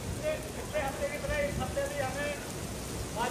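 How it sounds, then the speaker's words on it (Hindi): Heavy rain falls steadily in a broad, constant wash, with a voice talking over it. "ये देखिए बहुत तेज बारिश पड़ रही है भाई इस टाइम।"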